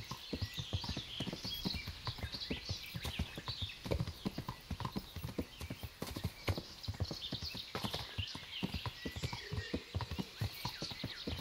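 Horse hooves clip-clop in the Kingdom Come Deliverance video game, a quiet, steady stream of overlapping hoofbeats with faint background noise.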